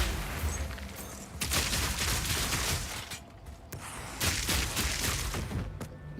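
Grenade blasts in the video game Path of Exile 2, a dense, loud run of overlapping booms and crackling bursts with a brief lull partway through, amid continuous game combat noise.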